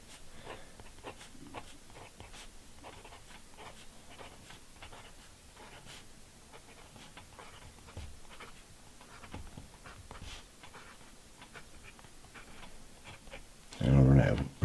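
Visconti fountain pen laying Visconti Green ink onto paper in a steady run of soft scratchy strokes, quiet and close, with a louder thump near the end.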